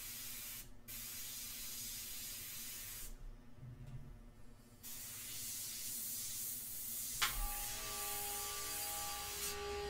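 An airbrush sprays India ink in steady hissing bursts with brief pauses between passes, a close, continuous airy spray, and a faint tonal whine near the end.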